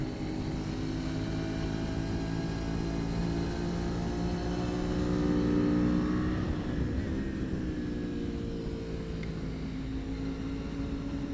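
Race cars in traffic on the Thunderhill track, heard as a loud, steady engine drone from inside the car with shifting tones as speed and revs change.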